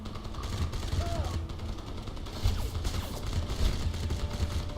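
Gunfire in Crysis comes as rapid bursts and scattered shots over a rumbling background, moderately loud and continuous throughout.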